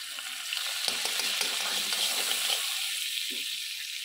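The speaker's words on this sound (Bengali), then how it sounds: "এবার এই কড়াইয়ের মধ্যে আমি আবার একটু বাটার দিয়ে দেবো।" Butter sizzles in a kadai for paneer butter masala as a steady close frying hiss, with a few brief stirring clinks along the way.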